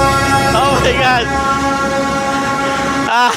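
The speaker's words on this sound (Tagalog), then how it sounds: "Ang lakas ng busina." Loud train horn blares on Hanoi Train Street, a sustained harmonic blast with pitch bends near the start and again at the end, over crowd chatter and excited voices close by.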